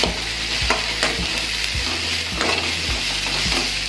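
Chopped ginger, garlic, onion and coconut sautéing in a pan for mutton kulambu, a loud continuous sizzle punctuated by rhythmic spatula scrapes about twice a second.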